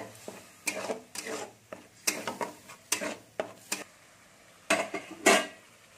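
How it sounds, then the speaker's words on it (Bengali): A spoon scrapes and stirs a thick mixture in a pan, in short irregular strokes with scraping bursts, close up and with no talking. "এটাকে দিয়ে ভালো করে আমি ঘেটে নিচ্ছি। মশলাটা কষে নেবো ভালো করে।"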